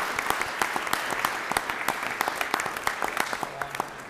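Applause at a city council meeting for a teacher retiring after 45 years, a modest room of people clapping in a loose, uneven patter of sharp claps, fairly close.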